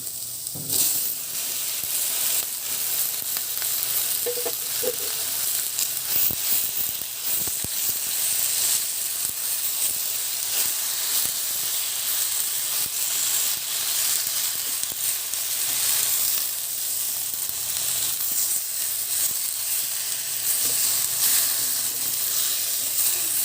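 Sliced tomatoes frying in a hot pan, a loud, steady sizzle and hiss with a few soft clinks and stirring sounds, no voices.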